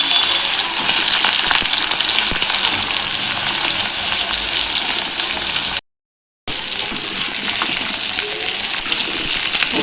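Onions frying in a pan as they start to brown for cashew curry, a loud, dense, continuous hiss and sizzle that holds level throughout, broken once by a short gap of silence.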